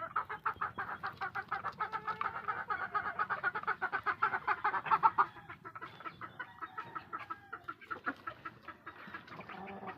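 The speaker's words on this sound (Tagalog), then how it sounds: "Yan yung itim natin na inahin." Repeated hen clucking calls in quick rhythmic bursts, fairly close, from a black hen in a chicken coop, with other birds faintly in the background and no talking.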